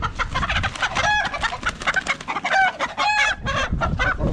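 Chickens cluck and squawk close by in steady repeated bursts, with a few sharper, higher calls standing out among new baby chickens and the flock.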